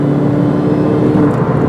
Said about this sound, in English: you can hear how smooth the engine is on this thing